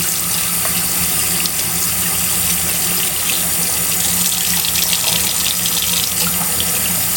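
Steady running tap water splashes continuously into a sink, a full broadband rush with small bursts as a makeup brush is rinsed under the stream.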